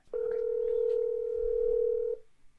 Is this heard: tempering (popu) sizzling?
no